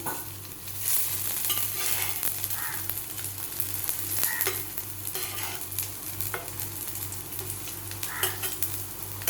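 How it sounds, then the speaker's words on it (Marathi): Aloo tikki frying in a pan, a steady close sizzle of oil with occasional stirring scrapes and a low constant hum beneath. "दोन्ही बाजूने अशा पद्धतीने आपण फ्राय करून घेणार आहोत."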